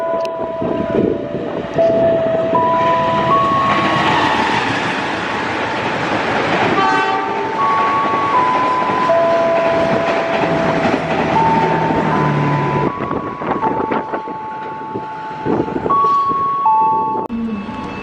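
A passenger train runs past an Indonesian station, a loud continuous roar of wheels and cars with horn tones and a rising warning signal heard through the passage.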